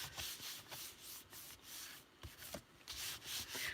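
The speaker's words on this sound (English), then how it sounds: "I always turn the card up like this and rub to make sure that the glue is spread out and made contact all over" A card is rubbed by hand to press down glue in a papercraft stamping session, giving a soft, close, repeated scuffing and brushing sound with no voices.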